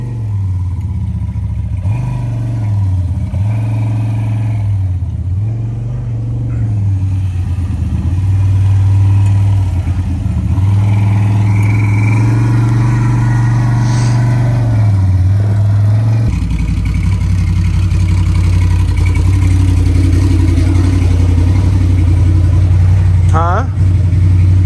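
A car engine idles and revs several times, pitch rising and falling in repeated surges and then holding a steady higher drone, loud and close, with people talking over it.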